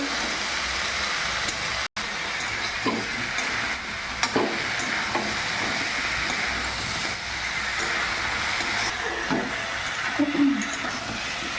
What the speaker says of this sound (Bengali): একটু নাড়াচাড়া করে নেবো ভালোভাবে, কষিয়ে নেবো।